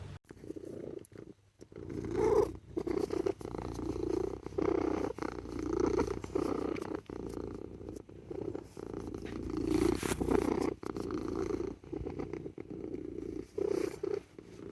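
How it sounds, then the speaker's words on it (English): A cat purrs up close in a steady, rhythmic rumble of repeating breath cycles, alone without any talking. "let's insert a little cat clip here"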